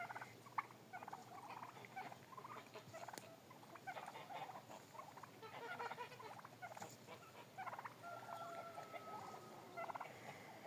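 Several turkeys gobble and cluck in a busy, overlapping chatter, fairly faint and steady throughout with no talking.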